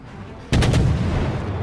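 A Kiev destroyer's twin-barrel naval guns fire in the World of Warships video game, starting with a sudden loud boom followed by a few rapid, closely spaced blasts and then a lingering rumble.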